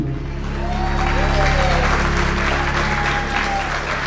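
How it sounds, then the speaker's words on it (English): Wedding guests give the couple a steady, full round of applause that swells and holds for several seconds, a crowd clapping together in a hall with background music running underneath. "put your hands together. Congratulate these two."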